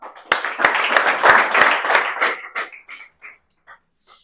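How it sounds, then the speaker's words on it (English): An audience claps to welcome Rehan Khan at a spoken English institute show. The clapping is close and lively at first, then thins into a few scattered claps and fades to quiet. "Please give a big round of applause, one and only Rehan Khan."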